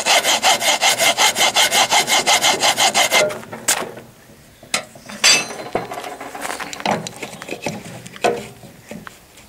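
Handsaw cutting into wood to seat a self-splitting axe head on its handle: a steady run of about a dozen rhythmic rasping strokes, close and loud, then scattered scrapes, taps and shuffling handling noises with no talk.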